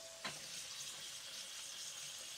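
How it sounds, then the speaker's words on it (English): Freshly caught fish fillets fry in real butter in a pan, making a steady, soft sizzling hiss that continues throughout with no talking. "Here it starts to sizzle."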